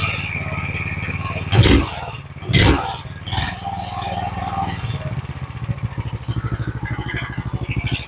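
An engine fitted with a 40 Series primary clutch starts up with a couple of loud bursts, then settles into a steady, rapidly pulsing idle as it warms, with a voice speaking over it.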